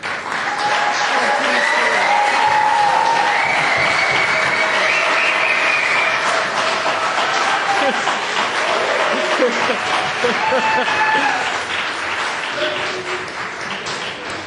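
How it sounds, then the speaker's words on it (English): An audience applauds steadily at a poetry festival launch as a mayor is welcomed, dense sustained clapping from a large crowd filling the space and tapering slightly at the end. "Thank you for that polite, enthusiastic, wonderful applause."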